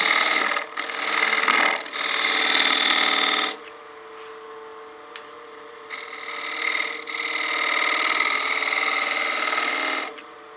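A 1/2-inch spindle gouge cuts a dovetail into a spinning bowl blank on a wood lathe, a loud continuous scraping hiss that fades between passes and then resumes.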